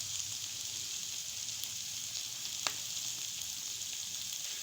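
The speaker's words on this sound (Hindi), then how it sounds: "जी अब इसको जो है हम लोग 4 से 5 मिनट इसकी भुनाई करेंगे, ताकि ये अच्छी तरह से और जो है वो कुक हो जाए।" Minced keema with capsicum frying in a pan, giving a steady, even sizzle across the whole stretch with one faint clink partway through; no one speaks.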